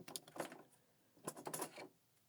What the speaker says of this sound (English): the ink holder will move and position itself